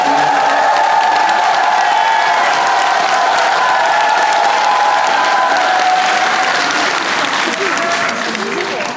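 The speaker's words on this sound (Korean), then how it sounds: "우리 남계국악단 여러분들한테 박수 한번" A concert crowd at the Yeongdong World Gugak Expo applauds the Namgye Korean traditional music orchestra with loud, sustained clapping, mixed with a few cheers and whoops, before the noise thins slightly at the end.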